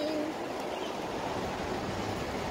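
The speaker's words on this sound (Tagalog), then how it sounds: "Malakas ang hangin dito." Strong outdoor wind among banana trees roars steadily as a broad rushing noise against the microphone, constant and fairly loud throughout.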